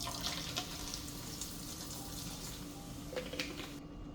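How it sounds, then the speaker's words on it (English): Tap water runs steadily into a sink while chitterlings are washed, a close, even rush with small splashes and clinks, no talking. "We finna wash these chitlins real well."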